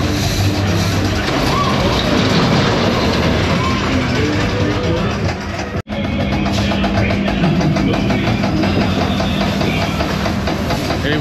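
A fairground ghost train ride at Hull Fair rumbles and clatters steadily on its track, loud and continuous, with a brief sharp dropout midway.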